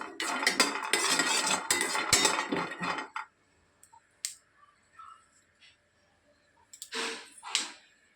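Peanuts being roasted and stirred in a pan, a dry rattling and scraping clatter that goes on for a few seconds, then falls to quiet with a few faint knocks and later clinks.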